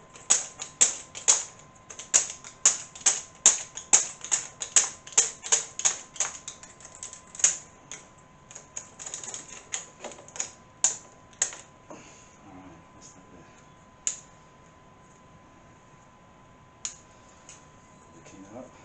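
Plastic keycaps are pried off a computer keyboard one after another, giving a quick run of sharp close clicks that slows to sparse single snaps.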